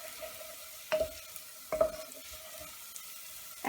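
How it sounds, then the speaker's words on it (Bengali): Thinly sliced beef stir-fried in oil on high heat, giving a close, continuous sizzle with two sharp bursts of spatula scraping against the pan. "হাই হিটে এটা আমি প্রায় 1 মিনিট নাড়াচাড়া করলাম।"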